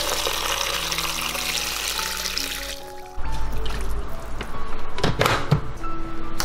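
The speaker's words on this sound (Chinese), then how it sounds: "加入清水，没过粽子" Water runs into a rice cooker pot over wrapped zongzi: a steady stream with a rising fill tone, then a thunk and heavier splashing, close and loud.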